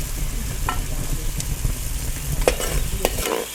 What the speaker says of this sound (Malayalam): ഇതെന്റെ കൊച്ചേ തേങ്ങാക്കൊത്ത് വറക്കുക